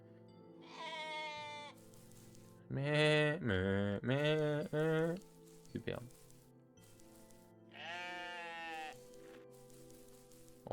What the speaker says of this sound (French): Oh, c'est bruit de chèvre infini.